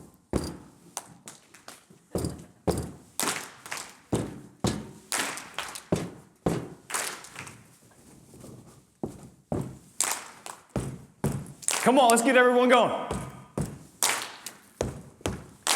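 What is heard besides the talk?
speaker stomping foot twice and audience clapping along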